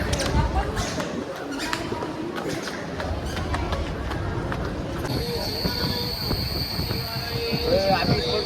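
A Pune metro train rumbles along with metallic wheel squeal and rattling, and a high electric whine joins partway through, under a busy crowd murmur.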